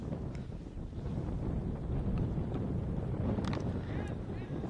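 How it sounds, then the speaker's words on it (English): Wind gusts around a cricket ground during a match, a steady low rumble and roar of air buffeting the microphone that continues without a break for the whole stretch. "The wind just picking up slightly here around the ground."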